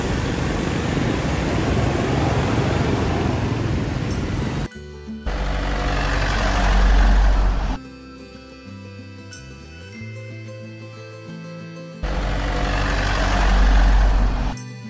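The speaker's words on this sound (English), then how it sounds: "Tarpaulin truck." A tarpaulin truck drives, its broad engine rumble and road roar heard close across several abruptly cut segments, rising and falling in loudness with brief quieter mechanical stretches between.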